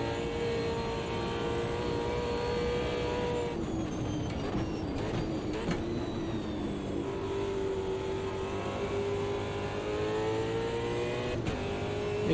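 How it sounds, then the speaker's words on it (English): A Super V8 race car in Automobilista 2 at Bathurst screams through high revs, its steady engine harmonics rising and dipping as it shifts and lifts, loud and continuous with no talk. "These V8s have got tremendous amounts of torque."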